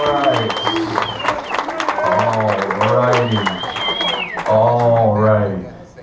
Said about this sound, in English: All right, everybody give them a big round of applause.